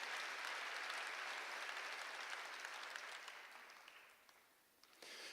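A church congregation applauds in a steady wash of clapping that gradually fades over about five seconds, with a brief renewed burst at the end.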